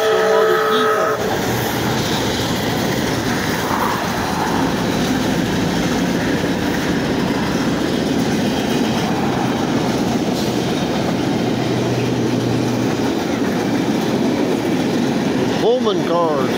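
A steam train pushed by two locomotives rolls past close by, a loud sustained rumble and clatter of wagons with a whistle at the start and end, and a person talking over it.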